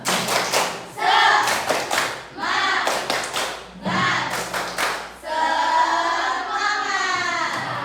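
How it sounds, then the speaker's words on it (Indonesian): A classroom of children in an Islamic studies lesson claps together in a rhythmic spirit cheer, bursts of hand claps rising and falling over about eight seconds, close and loud, with children's voices mixed in. "Satu kali tepuk semangat."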